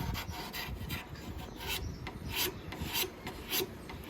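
A bent blade shearing and peeling wood from a carved blade tip, giving close, quiet rasping scrapes in short repeated strokes with a few brighter scratches, and no talking.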